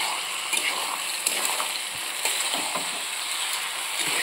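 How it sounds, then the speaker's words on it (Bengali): Cumin seeds sizzle in hot oil as a steady, moderately loud hiss, dotted with small crackles and a few light taps against the pan. "তেল দিয়ে জিরা ফোড়ন দিয়ে দিয়েছি"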